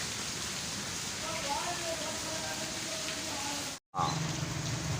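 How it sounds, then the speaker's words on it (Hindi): Heavy rain with hail falling steadily in Taxila, a dense continuous hiss of drops hitting surfaces, close and even throughout with a brief dropout near the end. "औले ही औले बारिश ही बारिश।"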